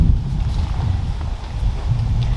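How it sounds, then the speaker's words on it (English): Wind buffets a microphone outdoors during cooking, a loud, low, rumbling gust noise that pulses unevenly throughout. "It's also very windy"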